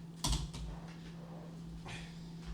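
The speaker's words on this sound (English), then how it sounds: "I think it's something creaking." Faint creaks and a few mechanical clicks from an indoor setting, with a sharper knock early on and a quiet low hum running beneath.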